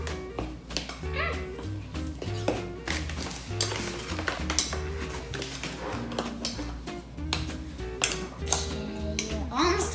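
A spoon clicks and scrapes around a bowl of sticky molasses gingerbread batter in a home kitchen, in quick irregular taps beneath an adult and a child chatting nearby.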